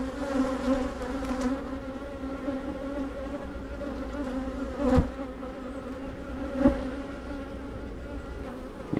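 Honey bees buzz in a dense, continuous drone from an open hive during an inspection, with a few louder close passes flying near.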